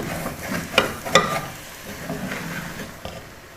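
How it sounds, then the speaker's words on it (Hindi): Okra being stirred with chopped onions and tomatoes in a pan for dhaba-style masala bhindi, a few sharp scraping clinks from a spoon against the pan over a soft, steady background sizzle, close and alone without talk. "अब इनको मिक्स कर लेना है प्याज और टमाटरों को अच्छी तरह"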